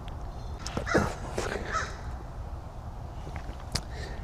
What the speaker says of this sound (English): Tell you what, these crows are active today.